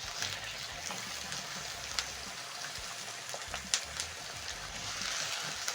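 Onions sautéing slowly in oil in a frying pan over a low flame alongside frying potatoes, giving a soft, steady sizzle with scattered faint pops.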